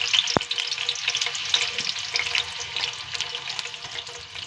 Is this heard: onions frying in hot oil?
yes